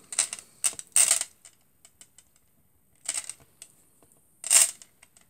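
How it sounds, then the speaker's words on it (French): A bracelet makes several brief, bright metallic clinks and light rattles in separate bursts, close and fairly soft, with quiet gaps between them. "Je m'excuse du bruit avec mon bracelet."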